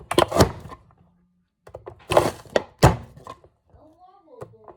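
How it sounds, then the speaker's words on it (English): Quartered onion pieces being chopped in a handheld food chopper: a few heavy, hollow thunks come in clusters with quiet pauses between them, and a person talks in between. "I like to cut my onion in quarters before I chop it on here"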